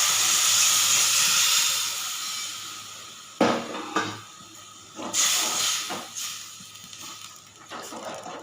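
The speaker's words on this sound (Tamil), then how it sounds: "இதோட இந்த புளியை கரைச்சி வச்சு இந்த புளி தண்ணியை அதில் சேர்த்துக்குவோம்." Tamarind water poured into a hot pan of sautéed vegetables sets off a loud steady hiss that fades, followed by a few sharp sizzling bursts and clinks as the mixture settles, close up.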